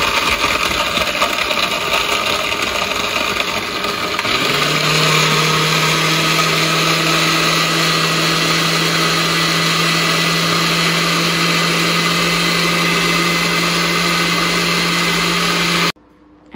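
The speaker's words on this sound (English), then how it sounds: "I added the pulp back into the blender with some more ice and 2 cups cold water" A countertop blender liquefies lemon pulp with ice and cold water, a loud, close whirring that settles into a steady high-pitched motor whine once the ice breaks down, then cuts off abruptly at the end.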